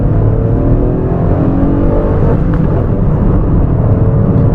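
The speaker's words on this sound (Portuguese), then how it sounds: "Agora vamos acelerar um pouquinho para escutar um pouquinho como é que é o 3 cilindros acelerando" A Chevrolet Onix LT 2025 with a manual gearbox and a 1.0 three-cylinder engine accelerates on the road, its steady engine drone loud and close throughout, with road and tire noise underneath and no talking.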